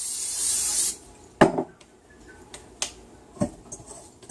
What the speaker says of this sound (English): what I'm going to do is just spray the bowl